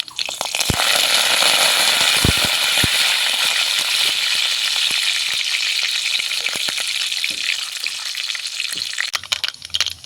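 Curry leaves crackle and sizzle loudly in hot oil with black mustard seeds, a dense spitting fry peppered with sharp pops and light clinks that stays steady throughout.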